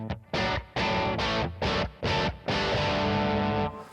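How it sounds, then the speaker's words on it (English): Electric guitar through a Yamaha THR amp on the crunch setting with the master at half: gritty, overdriven chords in choppy strummed stabs, then a long ringing chord, close and full. "this is just on the crunch sound, with the master volume on about half"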